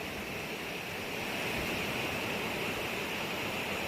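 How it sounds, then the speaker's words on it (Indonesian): Small rapids ripple on a narrowing stretch of the upper Mahakam River during the long July 2025 dry season, a constant, even rushing wash with no voices. "jalur sungai ini sudah mulai menyempit, menimbulkan riak-riak atau riam-riam kecil"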